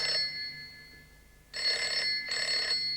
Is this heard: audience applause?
no